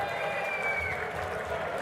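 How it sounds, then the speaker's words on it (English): Applause at a softball hall of fame banquet: steady, dense clapping from a crowd filling the whole stretch, with a faint tone running underneath. "Let's have some applause for the teams coming up"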